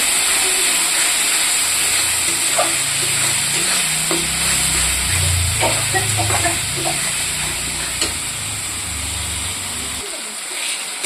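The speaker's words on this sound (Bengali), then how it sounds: "দেখুন বন্ধুরা, মশলাটা কষানো হয়ে গেছে।" Spice masala with turmeric and chili powder frying in a pan, a loud steady sizzle and hiss with occasional stirring scrapes throughout, the sizzle quieting slightly near the end.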